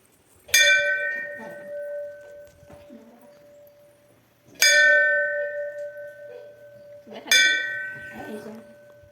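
A temple bell struck three times, each ring a bright metallic clang decaying slowly, with soft background voices and movement between strikes.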